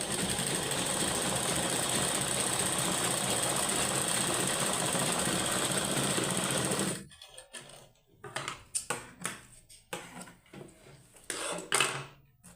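A sewing machine stitches old sweater fabric in one continuous, loud mechanical whir for about seven seconds, then stops and gives way to scattered clicks and handling knocks.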